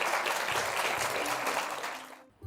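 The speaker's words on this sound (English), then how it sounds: "Please, everyone, give them a round of applause." A crowd applauds steadily, a dense wash of clapping that fades out near the end.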